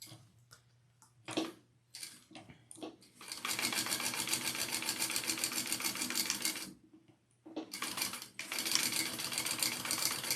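Domestic sewing machine top stitching a fabric sling pack, starting with a few short stitch bursts, then running in long steady close runs with a brief pause between.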